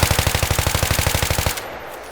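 A weapon in Battlefield 3 fires a fast, regular automatic burst of about twenty loud, close shots for around a second and a half, then stops.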